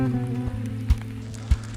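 Steady rain falls during a bikepacking trip through the Colombian Andes in the rainy season, a continuous wash of drops with a constant low hum beneath and two brief heavier thumps.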